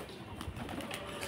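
Racing pigeons at a pigeon market in Beldanga give soft, low, continuous cooing under steady background noise, with no clear pauses.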